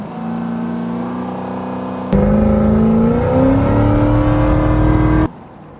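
A 600 WHP Cadillac CTS-V's engine hums at a steady low idle, then abruptly jumps louder into a rising rev with climbing pitch, holds there close and strong, and cuts back down near the end.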